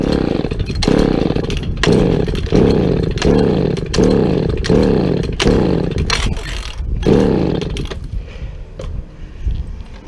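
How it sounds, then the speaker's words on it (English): An old power saw bucks a felled tree beside a house, its engine revving loudly in repeated rhythmic surges as the chain bites, then dropping toward idle near the end. "Bucking in his old power saws"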